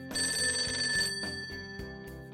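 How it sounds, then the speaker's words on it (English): A telephone in the Persona 5 Tactica video game rings with a bright, continuous electronic trill over a quiet musical backing, heard alone at moderate volume. "The phone."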